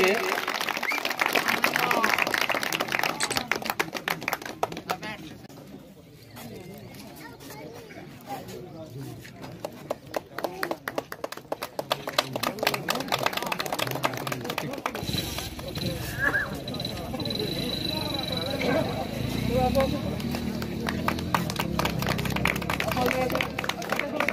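An audience claps at the closing ceremony of a football tournament, a rapid, scattered patter of hands running under an announcer's amplified voice, fading briefly midway before swelling again.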